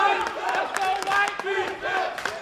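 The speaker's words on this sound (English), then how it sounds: "now we hear the crowd chanting for defense" A basketball crowd at a men's college game between Barclay and Dallas Christian College chants for defense, a loud rhythmic mass of voices swelling and repeating throughout.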